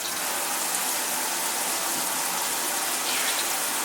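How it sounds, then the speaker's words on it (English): Water runs steadily from a tap during handwashing, a continuous close, bright rushing hiss with no talking. "Next, you should wash your hands."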